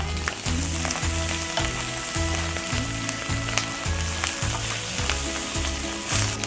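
Onions and eggs sizzle steadily in a hot pan while being stir-fried, with a dense continuous crackle and a rhythmic scraping of the spatula underneath, close and even in volume throughout.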